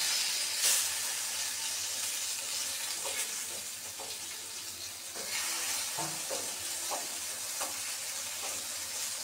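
Eggplant fritters fry in a pan of oil with a continuous, fairly quiet hissing sizzle and occasional soft crackles and pops throughout.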